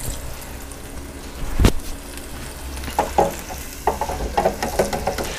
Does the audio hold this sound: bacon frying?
yes